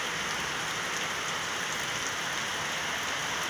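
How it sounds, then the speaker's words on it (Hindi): Heavy rain pours down steadily outdoors in a farming area, a dense, unbroken hiss of drops at constant loudness with no voices. "आप लोग देख सकते हो कि कितना बारिश हो रहा है"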